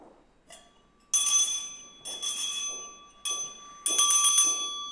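Bell rung at a city council meeting in Iceland: a small bright bell struck four times in quick succession, each ring clear and ringing on, close and loud in a quiet room.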